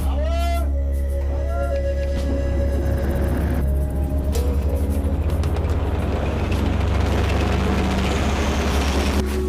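Heavy diesel engine of an M60 tank running steadily, a deep continuous rumble with mechanical clatter throughout, close and loud, with a brief higher whine near the start.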